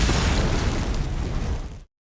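A grenade trap detonates in a loud, dense, rumbling blast that fills nearly two seconds before cutting off sharply into silence.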